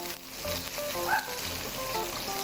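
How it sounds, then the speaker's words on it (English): Chopped leeks sizzle and fry in hot cooking oil for leek oil while making fried tteokbokki, a soft steady crackle at low level with faint background tones and no voices. "I'm gonna add my leeks that I've cut off, chopped earlier, to make the leek oil"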